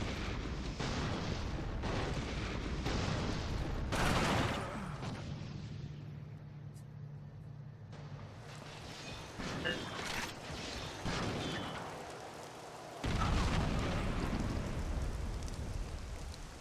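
Missile launcher explosions in a PlayStation 3 video game, heavy booming blasts and rumbling debris, with a loud burst near the start and another later, a speaking voice intermittent over the noise.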